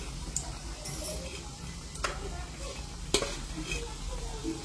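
Aloo bread pakodi frying in hot oil, a steady close sizzle with occasional sharp clinks and stirring scrapes.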